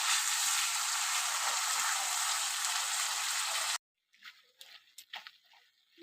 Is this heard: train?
no